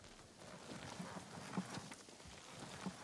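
Horse hooves clip-clopping in Ghost of Tsushima, faint, uneven hoofbeats at a walking pace under low game ambience and music.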